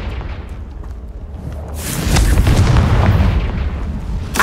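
A Confringo fire spell blast in Hogwarts Legacy bursts into a loud, booming rumble that swells midway and rolls on for a couple of seconds, followed by a sharp crack at the end.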